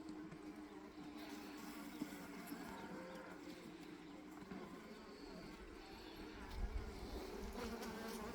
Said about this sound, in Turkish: Bu tarafta biraz arı var